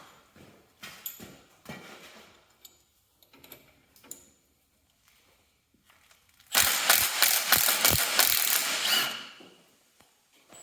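A ratchet wrench clicks in short, scattered bursts on a bolt in a hydrostatic lever, followed by a louder, denser run of rapid ratcheting up close before it trails off.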